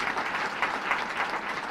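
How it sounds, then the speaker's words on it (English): Audience gives a round of applause at a regional transit spotlight event, steady dense clapping throughout with no talking. "Let's give him a round of applause."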